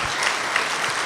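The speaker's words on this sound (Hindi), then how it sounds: "भाई ताली बजाओ" An audience claps steadily at a Brahma Kumaris spiritual gathering, a dense, loud, even patter of many hands across the whole short clip.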